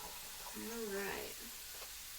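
A pound of sausage sizzles steadily while being broken up and browned in a frying pan, a faint continuous hiss with a brief voice in the middle.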